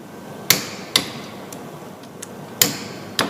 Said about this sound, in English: make sure the torque wrench clicks